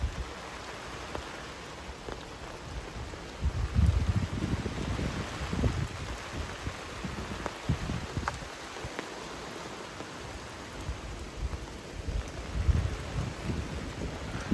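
Strong wind drives rain across rooftops, a steady wash of rainfall with gusty low rumbles and buffeting microphone wind noise rising and falling over the whole stretch, no talking.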